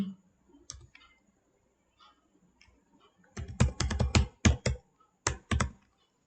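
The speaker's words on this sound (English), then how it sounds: "Then you should type your password here." Keys clatter as a password is typed on a computer keyboard, with a few scattered clicks followed by a dense burst of sharp, close keystrokes in an uneven rhythm, with no talking.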